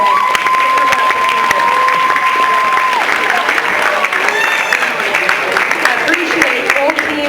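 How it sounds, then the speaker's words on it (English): Audience applause for debate teams at the close of a debate on whether the benefits of AI outweigh the risks: steady, dense clapping from a crowd fills the whole stretch with a continuous wash of sound and some voices mixed in. "I just wanted to give these guys one more round of applause"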